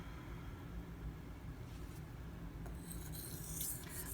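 A knife angled on the side of a Nano Hone whetstone, giving quiet scraping, rasping strokes at close range, with a few brighter gritty swipes toward the end.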